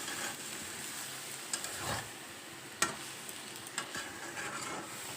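Food frying in a pan on a home kitchen stove, a steady soft sizzle broken by occasional clinks and scrapes of stirring, with no voices.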